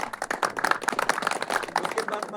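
An audience at a village development committee meeting in Pokhrikhet claps in a dense, rapid patter, with voices mixed in beneath the applause.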